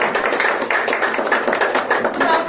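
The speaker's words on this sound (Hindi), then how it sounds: "तो मेरे दिल में कि हम पास्टर शहजाद की इंकरेजमेंट के लिए तालियां बजाएं" A church congregation claps together in steady, dense applause for a pastor during an Urdu sermon service, a continuous patter of many hands filling the room without a break.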